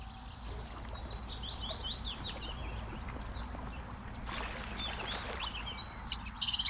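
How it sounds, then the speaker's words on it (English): A little grebe in reed beds gives a rapid, high-pitched trill among other faint chirps, set against a steady outdoor rumble. "Little grebe."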